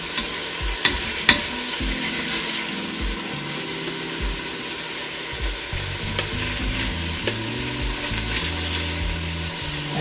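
Soy-glazed chicken and broccoli fry in a pan with a small amount of oil, giving a steady broad sizzle with scattered clinks and scrapes as the pieces are stirred, alone and fairly close.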